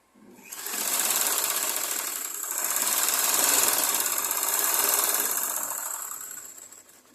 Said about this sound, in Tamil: அப்படியே ஒரு 2 தையல் 3 தையலை போட்டுக்கோங்க.